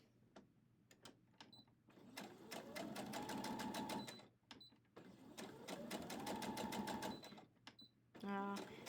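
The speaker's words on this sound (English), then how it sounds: "my machine's telling me that my bobbin thread is almost done" A home sewing machine stitches a scrappy quilt block in two sustained runs of whirring, rapid needle strokes, broken up by short clicks and pauses, with a brief electronic beep near the end and faint voices in the background.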